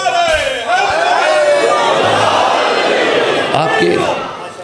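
A large gathering in an imambargah chants a religious slogan in unison, a loud sustained roar of many voices held for several seconds, swelling and fading slightly, close and full.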